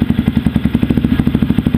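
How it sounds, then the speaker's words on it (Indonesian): Rapid, even exhaust pulses of a motorcycle fitted with a Norifumi Rocket 4 aftermarket exhaust, loud and close at a steady idle-like throb with a low burbling tone. "meskipun kalian udah ganti exhaust, suara knalpot sama menurut saya"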